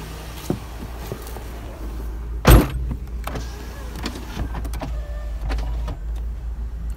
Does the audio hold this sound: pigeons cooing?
no